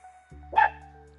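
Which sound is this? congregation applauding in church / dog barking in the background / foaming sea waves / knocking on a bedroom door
dog barking in the background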